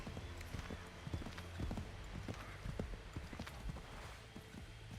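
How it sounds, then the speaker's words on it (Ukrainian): Steady clip-clop of a horse's hooves galloping in Assassin's Creed 3, a fast, continuous rhythm of thuds under constant background game noise. "кінь може швидко їхати"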